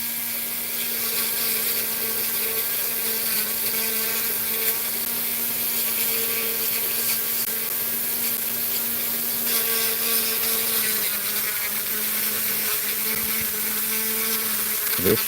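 A Dremel rotary tool fitted with a thin bit works on a silver pendant, giving a steady high-pitched whir with a faint hum beneath, quiet and continuous throughout, with no talk.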